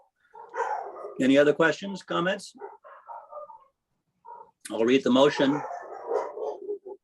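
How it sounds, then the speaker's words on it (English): Dogs bark in a yard outside during a city council budget and finance meeting, mixed under a person speaking at a steady, clear level. "Excuse the dogs, there's probably a coyote running through the yard."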